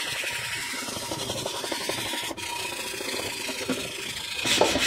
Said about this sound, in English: I'm using a wire brush, that's doing all the work.